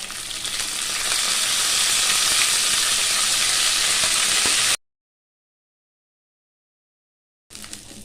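Curry leaves and urad dal sizzle hard in hot oil for a coriander chutney tempering, a loud steady hiss that cuts to silence partway through, then briefly returns.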